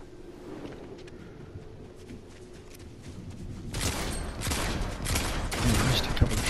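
Rapid gunfire from a first-person shooter video game, with quieter shots early, then a dense, loud run of repeated bursts in the second half over a low rumbling game background.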